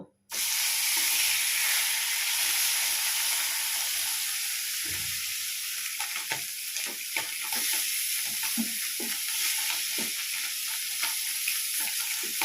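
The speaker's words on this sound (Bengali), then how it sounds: "এবার আমি মাছগুলোকে ভেজে নেব" Koi fish frying in hot mustard oil in a kadai give a steady, loud sizzle and hiss throughout, broken by soft pops and the occasional scrape of a utensil.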